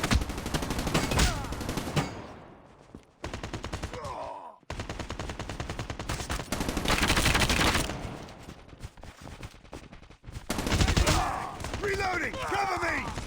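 HVK-30 assault rifle fire in a first-person shooter match, loud rapid automatic bursts in long strings broken by short pauses, with game voices calling out in between.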